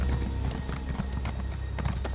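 Horse mount hooves clip-clop in Elder Scrolls Online: Summerset, a quick, even trot of hoofbeats over a low ambient game soundtrack, fairly quiet and steady throughout.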